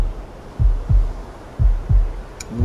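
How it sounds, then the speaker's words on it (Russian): A low, thumping double heartbeat from the survival game Bermuda Lost Survival, two paired lub-dub beats pulsing loudly and close, alone without talk. "у меня как раз сейчас вот стук сердца показывает"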